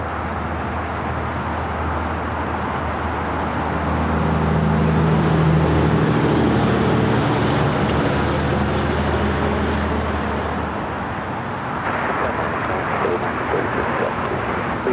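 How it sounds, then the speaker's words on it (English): Korean Air Cargo Boeing 777 freighter taking off at LAX: a broad jet roar swells over several seconds, peaks mid-clip and slowly fades, heard from a distance over steady background hum with no talking. "And the Korean Air Cargo 777 freighter now rolling."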